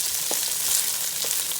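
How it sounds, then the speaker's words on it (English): Onions sauté in a hot pan for curry chicken, a loud, even hiss of frying with a few soft knocks from stirring, close up and with no voices. "I'm going to put my onions in here and just stir that up and let them just saute for just a little bit."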